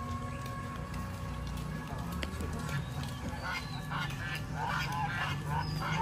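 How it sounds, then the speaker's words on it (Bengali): A flock of geese honks in a series of scattered nasal calls, moderately near, over a low outdoor background. "ও অনেকগুলো রাজহাঁস।"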